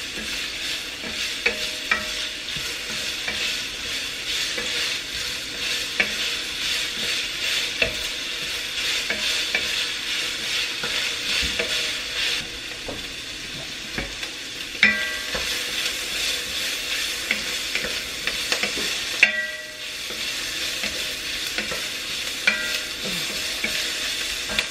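Vegetables sautéing in a pan with steady sizzling and intermittent stirring scrapes, a continuous close frying hiss running throughout with no talking.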